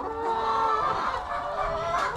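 Hens cluck and murmur together at close range inside a hen house, a continuous busy chorus with one rising squawk near the end.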